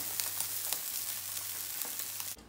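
Bacon and eggs frying in a pan give a steady, close crackling sizzle with scattered pops and spits, then a sudden shift near the end.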